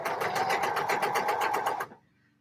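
A sewing machine stitching the crotch seam of trousers, a fast steady close mechanical whir with rapid rhythmic pulses that stops abruptly near the end.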